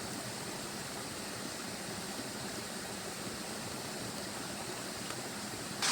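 A steady, broadband rush of falling water, continuous and even, like a waterfall heard from nearby with no other sounds.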